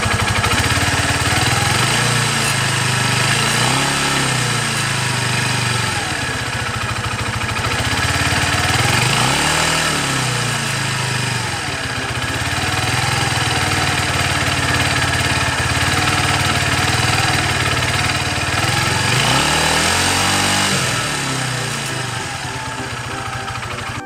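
A KTR motorcycle engine idles loudly and steadily close by, with a few brief rises in revs.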